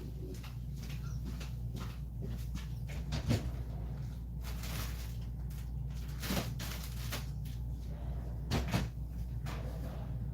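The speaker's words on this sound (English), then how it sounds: "Just let me check my drawer over here." A drawer slides open and shut in a crafting space, several scattered wooden clunks and rattles spread over a low, steady background hum.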